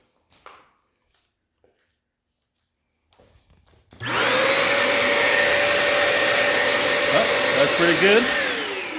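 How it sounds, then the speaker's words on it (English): A Bissell Symphony vacuum and steam mop switches on partway through and runs loudly and steadily with a high whine, vacuuming a floor, after a few seconds of near silence and a brief remark. "So we're gonna try to pick that up real quick and see how it goes with just the vacuum function."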